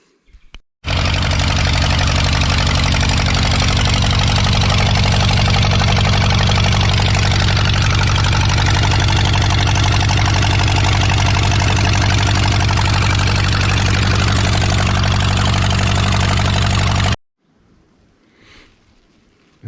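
A Bobcat skid steer engine with bad compression in one cylinder idles roughly on three cylinders, a loud, steady, uneven low chug close by that starts abruptly and cuts off, leaving quiet afterward.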